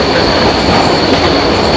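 Steam train at the NSW Rail Museum near Sydney rolling along the track on a curve, heard from on board as a loud, steady rumble of wheels on rails with a continuous high ring and no talk.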